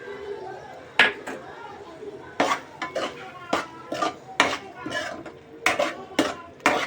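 Masala egg curry with smashed egg yolk being stirred in a pan, a series of scraping and clinking spoon strokes against metal at an uneven rhythm, with a soft sizzle underneath.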